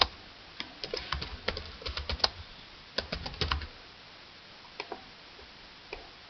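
Keys on a computer keyboard click in quick bursts as a username is typed, close and crisp, with brief pauses and a few scattered single taps toward the end.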